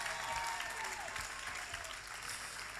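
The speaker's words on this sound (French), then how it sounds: "Vous pouvez vous applaudir, franchement" Audience applause at a comedy club show in the Vallespir, a steady wash of clapping that carries through the whole stretch with faint voices mixed in.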